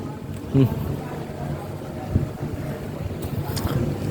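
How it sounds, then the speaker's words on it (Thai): Cool wind blows outdoors as a steady, broad rushing and buffeting noise across the microphone, moderately loud and continuous, with brief faint voice sounds in the background. "ลมถือว่าสุดยอดเลย ลม ว้อยวอยเย็นสะดวกสบาย"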